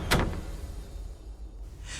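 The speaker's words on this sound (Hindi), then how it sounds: "मैंने जल्दी से घर वापस लौटकर दरवाजा बंद कर लिया।" A house door is pulled shut with a quick thud at the start, followed by a low muffled room tone. It is close and brief, and no one speaks.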